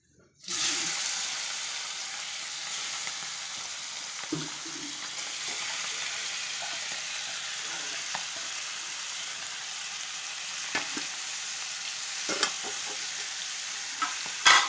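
Boal fish sizzling in hot oil, a constant bright crackle and hiss holding steady for over ten seconds, with a few faint clinks and scrapes and some quiet speech underneath.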